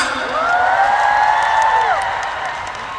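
Fans at a Thai fan concert cheer and clap in a loud, close burst, with shrill high-pitched screams over the applause, and the noise then fades gradually.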